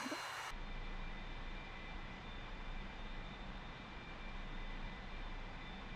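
Engine of a small plane cruising at just over 200 knots in the DCS flight simulator, a steady continuous drone and whine that holds at an even level from start to finish.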